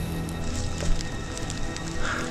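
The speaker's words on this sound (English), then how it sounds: "and rain's now picking up." Rain falls steadily in a forest at night, a dense patter of drops on leaves with occasional louder taps, close and continuous, with no voices heard.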